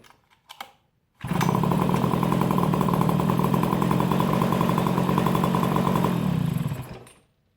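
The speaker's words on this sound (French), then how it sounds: "comme vous avez pu le voir, ça démarre assez facilement" An MBK 51 pocket bike is pull-started, a couple of quick tugs of the recoil starter, then the small two-stroke engine catches and runs in a loud, steady buzzing idle for about five seconds before cutting off, close by with no talking.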